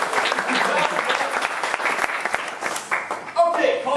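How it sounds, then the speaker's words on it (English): An audience at a college science event applauds, a loud wash of clapping that thins out toward the end as a voice begins speaking over it. "Round of applause."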